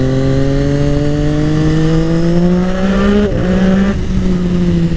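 A Triumph Daytona 675R motorcycle with a full exhaust line and remapped engine sings loudly and steadily, its revs climbing smoothly, then dipping and recovering briefly near the end.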